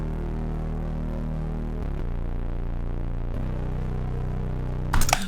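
A deep retro synth bass patch drones with a sustained, buzzy low tone, shifting pitch between held notes, with a soft reverb tail and a brief noisy burst near the end.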